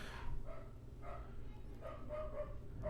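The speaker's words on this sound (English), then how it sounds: "And then my dogs are barking in the background while I'm trying to do a podcast." Several dogs barking in the background during a podcast recording, a handful of fairly distant barks in an irregular rhythm over a steady low room hum.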